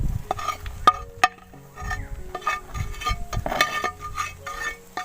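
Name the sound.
mixing food ingredients by hand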